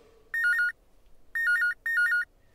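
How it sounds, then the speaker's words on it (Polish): A mobile phone ringtone plays in three short electronic trilling bursts, clear and close, separated by brief pauses in an otherwise quiet room. "bo telefon dzwoni."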